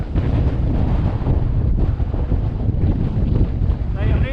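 Cold wind gusting across an exposed Applecross mountainside in Scotland, a loud, steady roaring buffet against the microphone throughout, with a voice speaking underneath.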